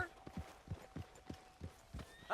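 Horse hooves clip-clop at a steady walking rhythm in Red Dead Redemption 2, roughly ten evenly spaced, fairly close thuds.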